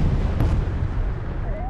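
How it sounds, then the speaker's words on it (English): A ship exploding in the strategy game Homeworld: Deserts of Kharak, a single deep boom that rolls into a low rumble, loud over the game's background sounds. "That's how I blow them up."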